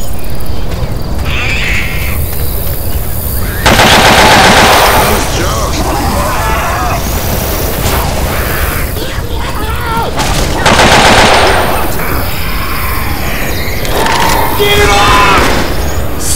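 Shooter video game gunfire, with dense bursts of automatic fire and booms in two long stretches between quieter in-game ambience, loud and close, with voices talking at times.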